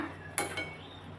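Sprouted moth bean curry mixed in a pan: one short metallic clink of a spoon against the pan, then a lighter scrape, over a quiet background with no voices.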